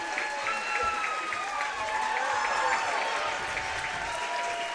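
Crowd on its feet at a Mountain Pine High School basketball game, a steady roar of applause and cheering lasting throughout, with whistles and scattered shouts mixed in.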